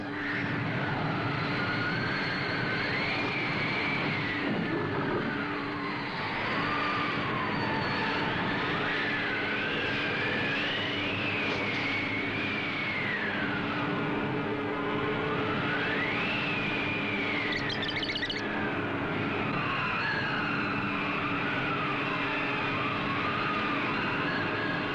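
A powerful cartoon north wind blasts without pause, a loud whooshing roar that rises and falls in long swooping howls, building to full force and running continuously.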